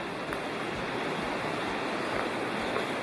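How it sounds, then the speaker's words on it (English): Big Creek on the Big Creek Trail in the Great Smoky Mountains rushes in a steady, broad wash of flowing water, heard constantly without a break. "You may be able to hear Big Creek off to my left."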